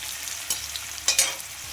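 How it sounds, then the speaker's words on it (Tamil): A pan of frying onions sizzles continuously while a utensil scrapes and stirs a few times, producing brief louder bursts over the frying hiss. "நல்லா கலக்கிக்கோங்க."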